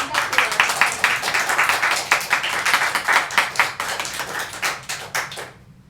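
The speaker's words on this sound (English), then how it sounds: "So one more time, a round of applause for visual artists and tattoo artists." A virtual audience on an online video call gives a round of applause, a dense patter of many hands clapping that goes on for about five seconds and then drops off abruptly.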